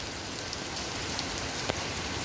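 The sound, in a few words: rain falling on a cloudy day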